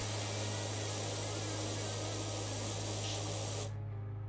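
A pressure washer sprays in PowerWash Simulator, a loud, steady hiss with a low hum beneath that cuts off sharply near the end.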